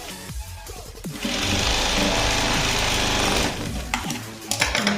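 A sewing machine stitching a blouse runs in a steady, fast, loud rattling whir for a few seconds, with lighter handling clicks and slower stitching before and after the main run.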